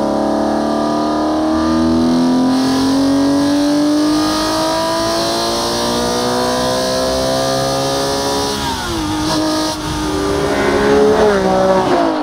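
A Porsche 964 REEN RSGT with a 3.6-litre 997 GT3 engine revs loudly and smoothly for several seconds, the pitch rising steadily, briefly dipping, then climbing again at close range.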